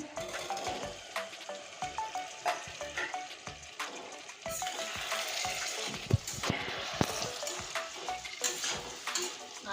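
Boiled kabuli chickpeas fry with spice masala in a pan for chana masala, a steady close sizzle broken by repeated scraping and clinking strokes of a spoon stirring the mix.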